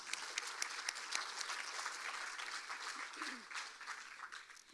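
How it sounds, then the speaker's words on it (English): Audience at an evening fall festival pageant applauds the sponsors with steady, dense clapping from a full room, sustained for several seconds before tapering slightly, with no talk over it. "please give a round of applause to all of our sponsors"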